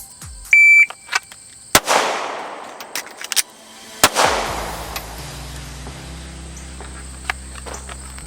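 Pistol fired during a holster draw drill from a Tier One Concealed Axis Elite holster: a shot timer beep, then two loud, sharp outdoor shots a couple of seconds apart, each trailing off in a ringing decay.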